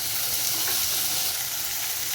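Tomatoes frying with browned onions in a pan for Dhaba-style matar paneer, a steady close sizzle and crackle with faint stirring, continuous and loud, with no voices.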